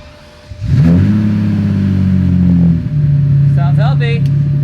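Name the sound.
Lamborghini Diablo 6.0 engine starting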